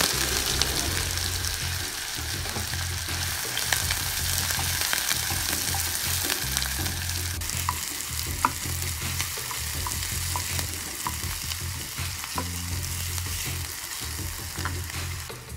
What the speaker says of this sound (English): Now let's add the finely chopped onions.